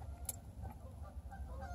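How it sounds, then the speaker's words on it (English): Canada geese honking outdoors, a few faint, distant calls over steady low background rumble. "You stinking Canadian geese, that gets into my video"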